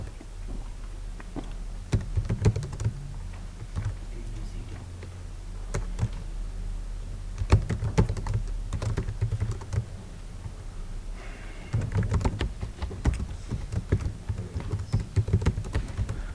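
Computer keyboard being typed on while entering data into a spreadsheet, scattered clicky keystrokes in short bursts, close and moderately quiet over a low steady hum.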